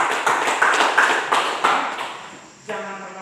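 A few hands clap in a steady, rhythmic pattern of roughly six sharp claps during a lesson, close and fairly loud, then stop as a brief sustained tone sounds at the end.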